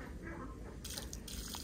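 A small motor pump pours water steadily into a homemade swimming pool, giving a continuous close splashing, trickling rush with no pauses and no voices.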